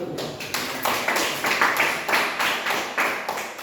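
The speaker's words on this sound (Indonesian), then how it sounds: "Tepuk tangan untuk kalian semua." Students in a classroom clap in a brisk, fairly close round of applause, with sharp rhythmic claps carrying steadily for a few seconds and no talk over them.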